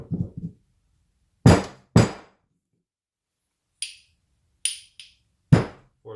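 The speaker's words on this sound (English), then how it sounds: "Fourth gear drops on." Metal gears and parts clink and thunk onto the transmission shaft of a Raptor 700 during assembly, a few sharp separate knocks spaced out over quiet, close and fairly loud.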